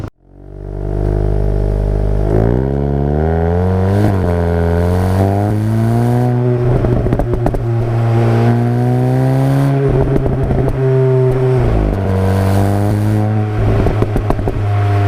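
A Mk7.5 VW Golf GTI TCR revs repeatedly, its exhaust note rising and falling through several loud, close pulls with clattering pops between, heard without any voices.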